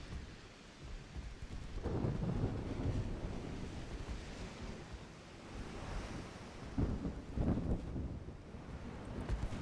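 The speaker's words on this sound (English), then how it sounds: "Well, that storm came out of nowhere." A sudden Mediterranean thunderstorm in The Forge of Freedom video game rumbles with thunder, wind and crashing waves, building in broad surges across the clip with no talk.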